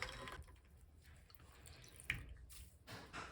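Hand-felted knitting is dipped into an ice water bath, producing faint water sloshes and drips, quiet and close with a few small splashes scattered across the moment.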